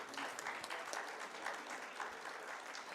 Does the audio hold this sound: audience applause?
yes